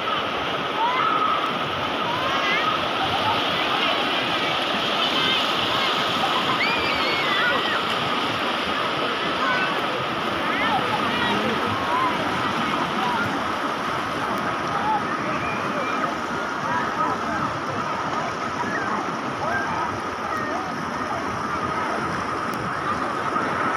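Steady roar of water cascading and splashing at Huai Chan waterfall in Thailand, a dense continuous wash heard close by with no pauses.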